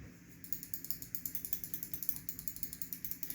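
Rapid, evenly spaced clicks from a Finalmouse Model O mouse with Omron 20M switches, a dense run of crisp mechanical taps heard up close with no talking.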